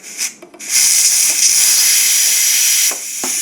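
A Ninja Foodi pressure cooker vents steam after cooking chicken wings, a few clicks of the release flip followed by a loud, steady rushing hiss that continues without break.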